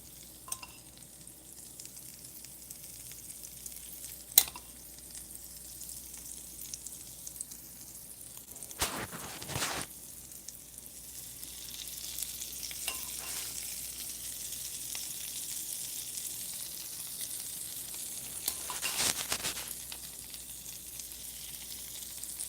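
Biscuits frying in butter in a pan give a steady close sizzle and crackle, with a few louder scrapes and stirring knocks as they are moved around.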